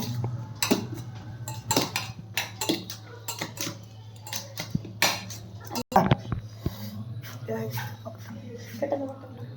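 Metal fork clinking and scraping against a bowl while Korean kimchi ramen noodles are mixed, a string of irregular close taps and clatters with faint talk in the background.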